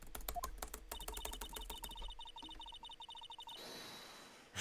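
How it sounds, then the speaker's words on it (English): Rapid clacking of computer keyboard keys, likely the enter key pressed repeatedly to advance text in Phoenix Wright: Ace Attorney. The taps are close and fairly loud, then give way to a soft breathy noise near the end. "I'm just pressing the enter key."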